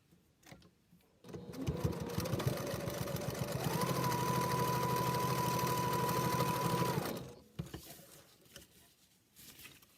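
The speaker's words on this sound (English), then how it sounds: "I'm going to put that into the machine at 1/2 inch." A sewing machine stitches fabric for a packing cube at a half-inch seam, a close, steady motor whir with fast needle patter, rising in pitch midway, running for several seconds before stopping.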